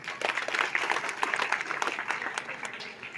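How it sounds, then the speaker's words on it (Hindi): Villagers at a Valmiki temple inauguration ceremony clap together in a brief, moderately faint burst of applause lasting a few seconds. "वाल्मीकि जी के नाम से तालियां बजाइए साथी।"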